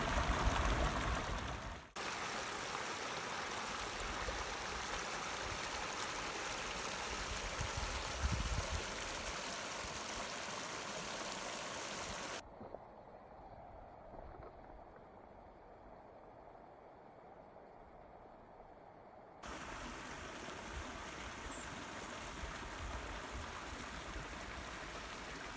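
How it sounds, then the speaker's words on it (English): Water streams and rushes steadily at Spray Geyser along a thermal creek in Yellowstone, a continuous hissing flow that drops to a quieter, duller wash midway before swelling back. "That is Spray Geyser."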